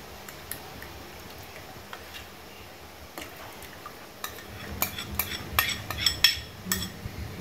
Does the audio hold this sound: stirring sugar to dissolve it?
yes